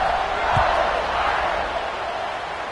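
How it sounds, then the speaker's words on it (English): Football stadium crowd buzzing after a score, a steady broad roar of many voices filling the space, loud and continuous with a brief low thump near the start. "this crowd is buzzing after that last score."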